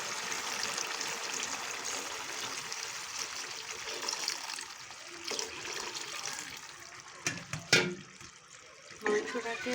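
Water poured into braised meat for bhuna khichuri, a steady running trickle and splash with a few clinks of pan or utensil toward the end, close by.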